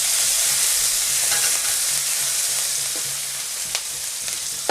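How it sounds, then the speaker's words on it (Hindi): Spices and ginger-garlic paste frying in a pan while cooking aloo palak paratha filling, a steady close sizzle with faint stirring scrapes throughout. "हल्का सा इसको हम फ्राई करेंगे और फिर हम इसमें अदरक और लहसुन का पेस्ट डाल देंगे"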